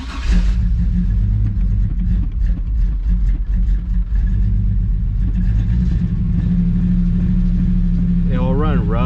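A Chevrolet Silverado engine running rough from a bad injector, a loud, uneven low idle with a lumpy, stumbling rhythm, close by, and a voice speaking over it near the end.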